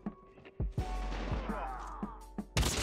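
Sniper rifle in the mobile game Call of Duty Mobile firing several loud close shots spaced irregularly, with a long ringing tail and a sharp final blast, under faint game sounds.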